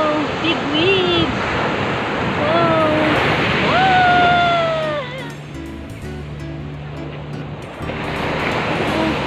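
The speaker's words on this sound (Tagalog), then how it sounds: "Wow, big wave." Big ocean waves crash and wash continuously onto the sand at Shek O Beach, with excited voices exclaiming over the roar of the surf.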